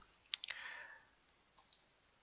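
A few sharp mouse clicks on an on-screen button in the Honeycomb configuration tool, two quick clicks close together followed by a softer pair after a short pause, faint and close with no talking.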